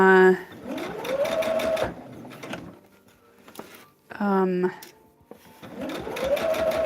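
A sewing machine stitches a star-patterned quilt, its motor whine rising in pitch over several short, close runs separated by quiet pauses.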